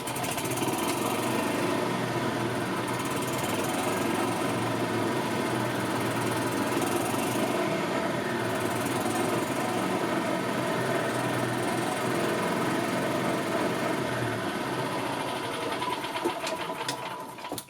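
A 2000 Yamaha G16 gas golf cart engine runs steadily and loudly up close, a continuous small-engine drone that holds for the whole stretch with no talking.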